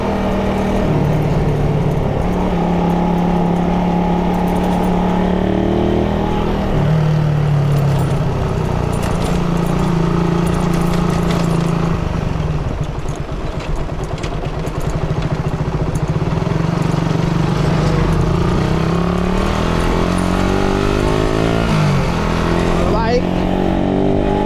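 Suzuki Raider 150 motorcycle with a misfiring, stalling engine, revved up close in a garage setting: a continuous engine drone that rises and falls in pitch, with someone talking over it throughout.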